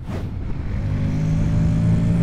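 Honda X-ADV 750 scooter pulling away and accelerating, its engine drone rising steadily in pitch and loudness over a couple of seconds, close by with no talk.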